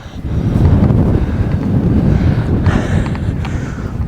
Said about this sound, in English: It's quite windy, and once the wind starts, the sand flies everywhere.